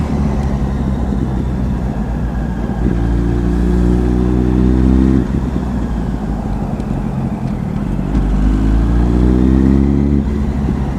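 A motorcycle engine with a suspected fault runs steadily while being ridden, rising in pitch in two clear revving pulls, the first near three seconds and the second near nine, over a constant low mechanical drone.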